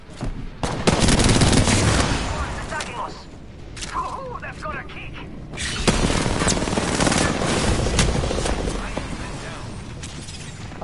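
Rapid bursts of automatic gunfire and sharp cracks from a PS4 first-person shooter game, loud and dense in repeated volleys across the whole stretch, with brief lulls between bursts.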